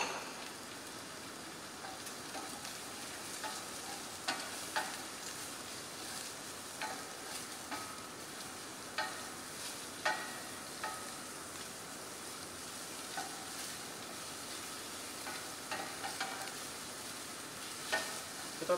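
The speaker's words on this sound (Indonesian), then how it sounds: "Kita tumis dulu sampai dia harum" Thinly sliced lemongrass and galangal sautéing in a pan for a Thai dish, a soft, even sizzle like light rain with occasional faint taps of a utensil.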